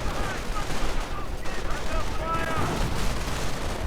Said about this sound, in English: We're seeing more artillery fire, I think. Or hearing it.